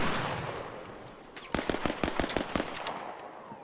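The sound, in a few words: pistol gunfire in a video game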